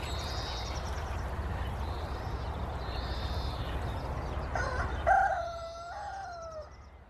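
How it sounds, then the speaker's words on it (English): Backyard chickens in a vegetable garden cluck and call, with faint distant calls early on and then a closer burst of louder clucking squawks near the end over steady outdoor background noise. "give that to the chickens so they can have a treat as well"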